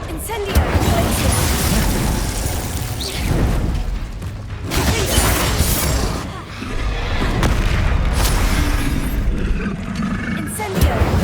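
Explosive spell blasts boom and roar in a Hogwarts video game, loud heavy bursts following one another almost without pause, with a voice shouting spell names over them.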